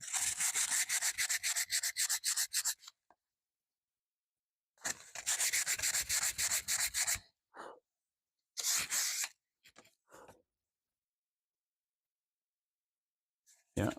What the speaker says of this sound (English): Let me sand that down a little bit. That super glue is hardened and it's giving it a bit of a rough edge right there.